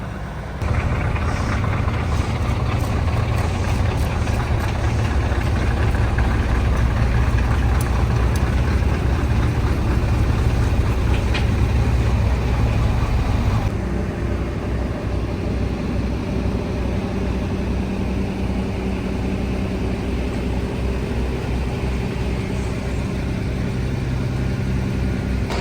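A Foden truck idling while it warms up, a loud, steady low diesel rumble that continues without pause and drops slightly in level about halfway through, with no speech.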